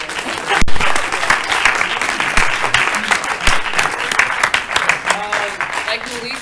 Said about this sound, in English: Can we just give everyone like a round of applause again?